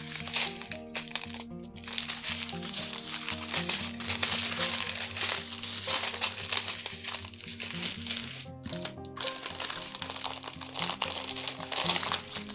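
Plastic packets, ten in different colours, crinkle and crackle steadily while being handled during the unboxing of an online order, with continuous rustling close by over faint background music.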